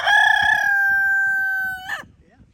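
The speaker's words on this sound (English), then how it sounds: "You gonna crow for me?" A rooster lets out one loud, close crow, a long sustained cock-a-doodle-doo lasting about two seconds that ends with a short ragged note, with faint farmyard clucking beneath.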